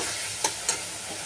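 Spices sautéing in oil in a pan on the stove, a soft constant sizzle punctuated by two brief scraping stirs, close by and with no talking.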